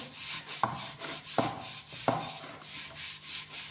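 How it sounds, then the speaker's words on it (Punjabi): A scrub pad rubs firmly over a blackened cooking pot in rhythmic back-and-forth strokes, a scratchy abrasive scouring with a few sharper scrapes, close and fairly quiet with no talk. "ਹੁਣ ਆਪਾਂ ਜੀ ਸਕ੍ਰੱਬ ਦੇ ਨਾਲ ਐਨ ਚੰਗੀ ਤਰ੍ਹਾਂ ਨਾਲ ਪਤੀਲੇ ਨੂੰ ਰਗੜ ਦਾਂਗੇ"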